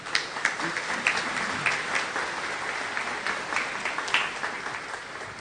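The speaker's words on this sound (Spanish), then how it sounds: "un fuerte aplauso para él." A congregation applauds inside a basilica sanctuary at the close of a Catholic Mass, steady clapping with distinct louder claps popping through, slightly reverberant and fairly near.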